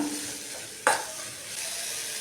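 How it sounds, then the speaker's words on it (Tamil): Tomato masala sautéing in hot oil for a curd kuzhambu gives a steady, close sizzle throughout, broken by one sharp spoon-stirring scrape midway, with no voices. "காயிலே ஆயிலே வதங்கும்போது இந்த பச்சை வாசனைலாம் போயிடும் நல்லா கிளறி விட்டு கிளறி விட்டு வதக்கிக்கணும்"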